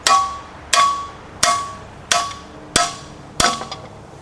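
Six sharp metallic hammer strikes beating out a truck engine cam bearing at a steady rhythm, each ringing briefly before the next blow, close and loud with no talking.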